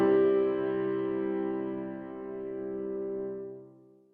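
A single sustained chord in a minor key rings out clearly and fades gradually over about four seconds, alone and without any voices.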